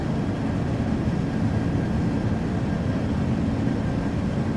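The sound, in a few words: L-1011 TriStar jet engines in flight, from Flight Simulator X video game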